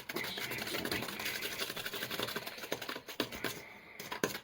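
A spoon beats a pudding mixture in a bowl with quick, rapid tapping and clattering. The sound stays fairly close and soft and has no speech over it.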